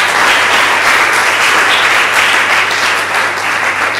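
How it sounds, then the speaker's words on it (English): Dense, loud applause from a large audience at a girls' innovation and technology talk in Accra, Ghana, a steady wash of clapping that continues unbroken for the whole stretch. "we need to clap for the government."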